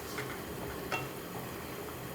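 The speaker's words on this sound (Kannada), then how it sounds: "ಇದನ್ನು ಚೆನ್ನಾಗಿ ಆಯಿಲಲ್ಲಿ ಫ್ರೈ ಮಾಡ್ಕೊಳ್ಳೋದು" Guntur dried red chillies and green chillies frying in oil in a hotel kitchen, giving a soft, steady sizzle with faint stirring clicks and a light scrape of utensils, close and fairly quiet.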